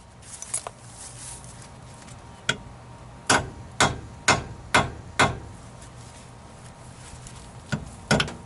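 A hammer strikes a chisel on a stripped lug nut in a run of sharp metallic taps: a few light ones, then five steady, evenly spaced blows close by, and a final pair of hits.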